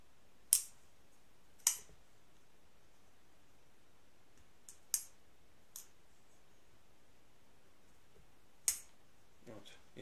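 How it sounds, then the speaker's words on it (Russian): Sencut Watauga folding knife with black G10 handle scales and D2 blade, flipped open and closed by button lock, giving six sharp isolated clicks spaced irregularly across a quiet room. "открывать можно за флиппер, складывать за систему button lock"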